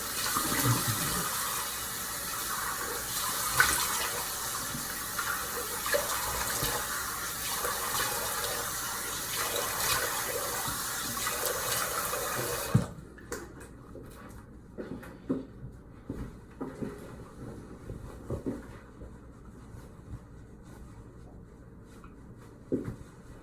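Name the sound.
running tap water, washing off after a shave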